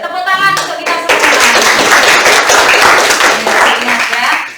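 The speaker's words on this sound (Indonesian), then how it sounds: "tepuk tangan untuk kita semua" Classroom applause from a group of students clapping hands, loud and dense and sustained for several seconds, with voices mixed in at the start.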